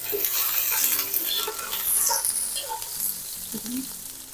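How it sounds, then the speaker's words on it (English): Onions sauté and char in a pan for veggie lo mein, a close crackling sizzle with scraping stirs and light utensil clatter, fairly loud and fading slightly near the end. "while our onions saute a little and just char up"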